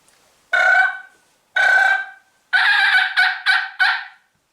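A wild turkey call sequence sounds loud and close: two drawn-out yelps, then a rapid run of raspy notes, ringing out clearly over near-silence.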